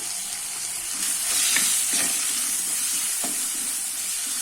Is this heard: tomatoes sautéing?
yes